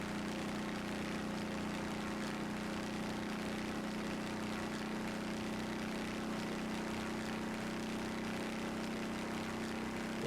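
A Gavril T-Series truck in BeamNG.Drive accelerates at very high speed in top gear. Its engine holds a steady, loud, droning hum throughout with no talking.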